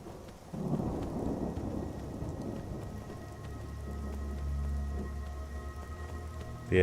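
Rain falls steadily in Skyrim while thunder rolls long and deep, a low rumble swelling and fading under the constant patter, with no voices.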